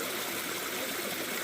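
Water flows steadily through a water hole used for gold prospecting, producing a continuous rushing, babbling wash that stays even and close for the brief moment, with no voices over it.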